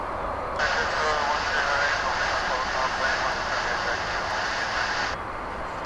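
A Boeing 787 Dreamliner takes off from a DFW runway, its engines a steady, loud roar that surges in and then holds. Someone speaks over it throughout.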